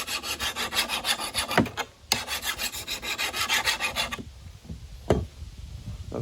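A hand file is drawn across the back side of a lawn mower blade in quick, even rasping strokes, close and rhythmic, pausing briefly, then a few quieter scrapes and a clank follow.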